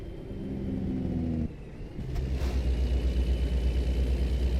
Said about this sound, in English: That's a loud truck.